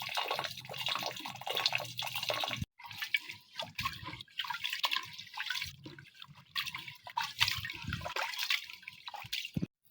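Water is poured off washed rice in a pot at an outdoor hut, a close splashing, gurgling trickle that runs in uneven bursts with a short break, audible throughout.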